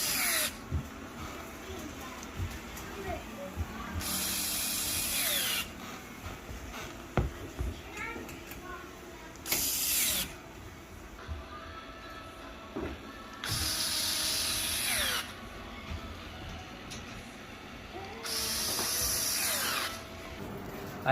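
A Duratech battery-powered screwdriver whirs in four short, high-pitched bursts of a few seconds each, with quieter handling noises and faint background sounds in the pauses between runs.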